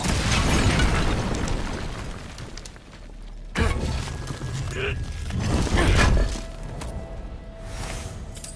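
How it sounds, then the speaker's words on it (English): Oil pots exploding in the video game God of War Ragnarök, a loud dense burst of blast and crumbling debris that cuts off, then a second rumbling surge with clattering as it settles. "Attack oil pots to cause an explosion, removing debris and damaging enemies."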